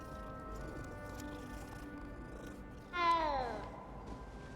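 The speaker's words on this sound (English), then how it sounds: "why would you put a cat there?" A single short cat meow in the video game Hogwarts Legacy, rising then falling, heard clearly over a quiet steady game ambience.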